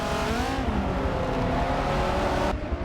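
Race cars roar at full throttle as a Porsche 928 recovers from a slide and gets back on the power, the engine note steady and loud with a sudden drop near the end.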